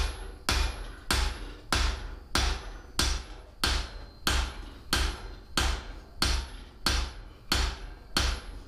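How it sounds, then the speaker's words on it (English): A dog set hammer pounds hot steel while a garden trowel is hand forged, about fifteen sharp, ringing blows at a steady, even pace, loud and close, with no talking. "I'm actually kind of excited to see how the dog set hammer will do on this."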